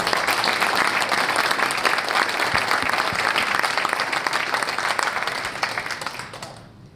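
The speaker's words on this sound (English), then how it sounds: "So please give a big round of applause to Lawrence Landweber." Audience applause for an Internet Hall of Fame inductee: dense, steady clapping from a large crowd fills the hall for about six seconds, then thins and fades out at the end.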